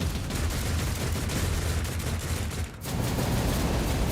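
Tarantula turrets in the video game Warhammer Mechanicus fire a dense, continuous barrage of heavy rattling shots, loud and unbroken apart from a brief gap near the end.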